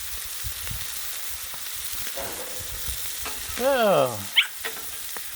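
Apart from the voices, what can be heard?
smash burgers sizzling and popping on a griddle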